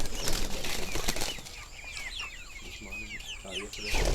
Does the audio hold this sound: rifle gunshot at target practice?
no